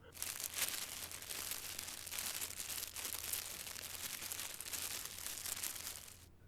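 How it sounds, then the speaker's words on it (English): Dry, papery rustling in a dark bedroom, a continuous crinkling and crumpling texture with soft bursts, faint and held at a steady distance for several seconds without voices. "The rustling got more prominent."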